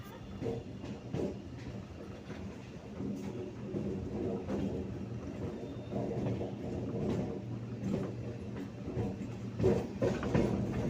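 A suburban train pulls into Majerhat station, rolling wheels clattering in a steady rhythm with faint rail clicks, heard from on board at moderate, even loudness.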